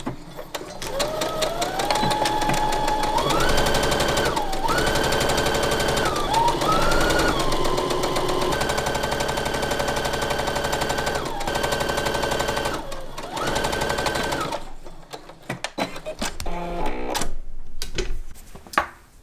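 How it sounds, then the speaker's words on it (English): A home sewing machine edge-stitches along a folded fabric edge for a summer top, running in steady rapid bursts with the motor pitch rising and dipping as speed changes, then stopping near the end; close and loud. "we're gonna edge stitch right next to this folded edge"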